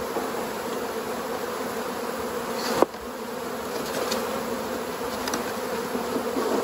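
Honeybees buzz in a dense, continuous drone around an open two-queen hive, close and steady throughout, with one brief sharp knock partway through and no speech.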